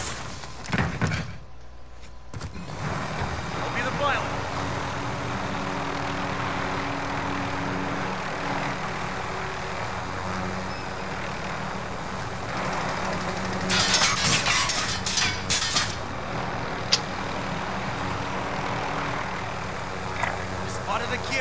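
A helicopter engine in a Warzone video game drones steadily for a long stretch, a continuous mechanical hum with a few knocks and thumps over it, while players talk intermittently.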